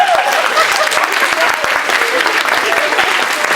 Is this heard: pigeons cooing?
no